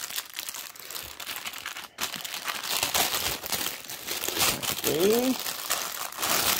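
Cross stitch kit packaging being opened: crinkly plastic rustles and tears in bursts throughout, with someone speaking briefly over it.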